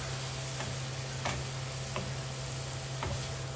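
Food being stirred with a little water in a pan, soft sizzling under a steady hum, broken by a few sharp scrapes and clicks of the spoon against the pan.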